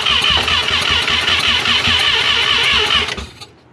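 A 1983 Mazda RX-7 with a 12A rotary engine cranks and catches, a loud, close, buzzing rhythmic churn that runs steadily for about three seconds before cutting off abruptly.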